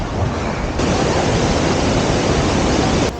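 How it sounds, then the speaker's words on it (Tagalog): Flowing stream near Kapati waterfalls, a steady broadband rush of water, loud and continuous throughout, with no voices. "Dito pa lang, rinig mo na yung agos ng sapa."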